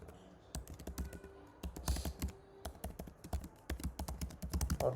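Rapid bursts of keystrokes on a computer keyboard while a name is typed into a signup form, close and clicky in an uneven rhythm with short pauses between runs of keys.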